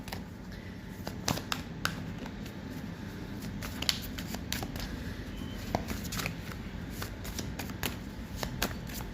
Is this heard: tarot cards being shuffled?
yes